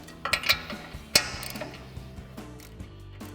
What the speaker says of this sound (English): we're gonna go ahead and loosen up our upper ball joint mounting nut with our 18 mil socket on our ratchet